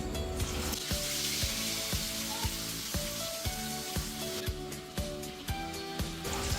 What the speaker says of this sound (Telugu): బాగా ఫ్రై అయింది.